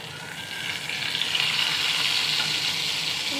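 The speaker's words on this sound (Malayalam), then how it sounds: "പിന്നെ മത്തി ഫ്രൈ കണ്ടോ, ഫ്രൈ ആകുന്നുള്ളൂ." Sardines fry in a pan with a steady, moderately loud sizzle that builds slightly and holds throughout, with no talking.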